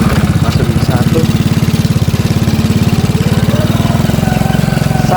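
Honda C700 motorcycle engine idling steadily up close with a fast, even pulsing throb, the rider clicking it into first gear in a rural village setting; no voices over it.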